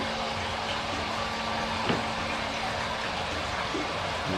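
Water runs and trickles steadily through the drip irrigation of a hydroponic greenhouse, a constant faint flow with a low pump-like hum underneath.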